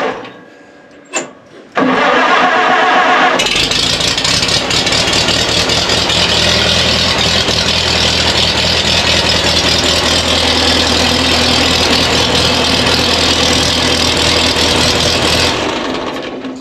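An old tractor stored in a barn in the North Carolina mountains cranks briefly, catches and fires up, then runs at a loud, steady idle close by for over ten seconds before stopping.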